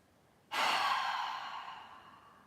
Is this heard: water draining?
no